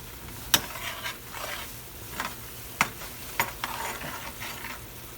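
A utensil stirs green beans and tomatoes with sesame oil in a hot pan, scraping in several distinct strokes over a soft, steady sizzle.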